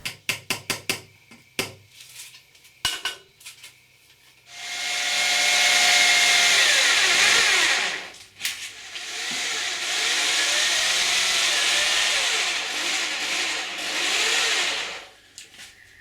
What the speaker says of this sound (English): I make sure that the plywood is in the middle before I screw it in place.